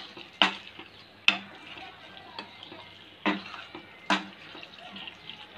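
A spoon stirs and tosses chicken with masala in a pan for Kerala chicken fry, giving a few sharp scraping clacks spaced a second or so apart over a quiet background.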